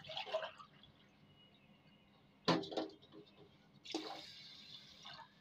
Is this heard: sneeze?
no